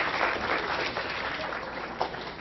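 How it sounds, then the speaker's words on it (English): An audience at a forensic science talk claps in a brief round of applause, a dense, moderately loud patter of many hands lasting a couple of seconds. "Can we get a round of applause for Charlie and Catherine, please?"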